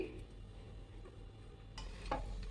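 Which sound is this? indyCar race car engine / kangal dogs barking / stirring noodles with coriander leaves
stirring noodles with coriander leaves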